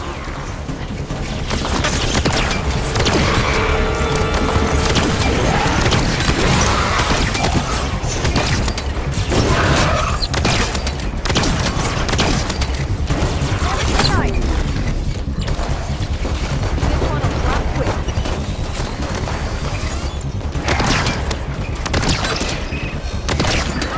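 Combat in Halo 5: Guardians: loud, relentless bursts of gunfire mixed with crashes, booms and mechanical clatter, dense and continuous.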